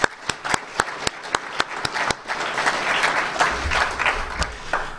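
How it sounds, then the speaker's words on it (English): Applause at a 2014 health seminar, starting with a few distinct, evenly spaced claps nearby that swell into fuller, denser clapping from the audience. "Let's give Healthy for Life a round of applause"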